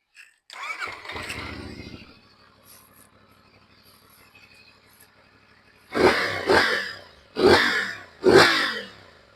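A 2025 CFMoto 450SS sport motorcycle with stock exhaust starts and idles quietly, then revs sharply four times in quick bursts, loud and close.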